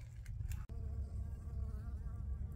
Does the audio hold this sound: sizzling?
no